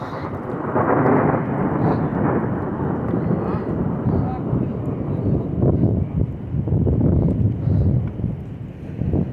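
Heavy rain and rumbling thunder fill a severe thunderstorm over a flooded street, a loud continuous roar with surging low booms and wind buffeting the microphone throughout.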